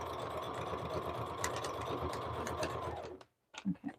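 A sewing machine stitching a fabric cover runs in a steady, rapid mechanical whir for about three seconds, then stops, leaving a short silence before a few soft handling bumps.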